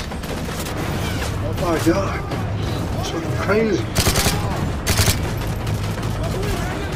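Rapid gunfire in Call of Duty: Modern Warfare 3 during a chaotic firefight, loud bursts and sharp cracks over constant battle noise, with someone talking excitedly over it.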